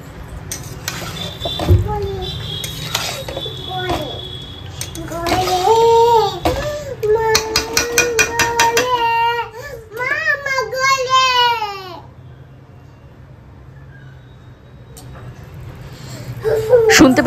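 A toddler whines and cries in drawn-out wails to be picked up, close by in a kitchen where meat is being cooked, mixed with an adult talking and the clatter of stirring.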